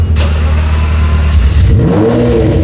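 A Lamborghini Murcielago SV with a loud, rumbling engine revs up close, a deep throaty roar that swells and then climbs in pitch near the end, heard alone without talk.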